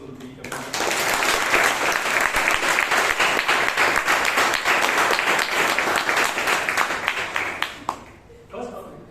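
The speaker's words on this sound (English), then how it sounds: "Can we have an applause for all those who will be coming?" Audience at a Bangalore Toastmasters club meeting claps steadily for several seconds, a dense, sustained round of applause that swells quickly and tapers off near the end.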